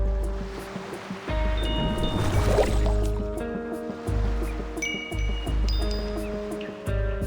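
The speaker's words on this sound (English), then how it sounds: "The waves create a chiming sound, like bells." Sea waves in a video game event scene sound like chiming bells, with layered ringing tones and rushing water surges throughout, some louder swells midway, with no talk.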